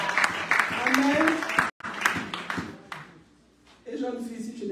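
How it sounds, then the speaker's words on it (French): A church congregation claps for newlyweds with scattered, uneven applause that fades after a few seconds. Voices talk over and after the clapping. "Applaudissez pour les mariés dans l'église."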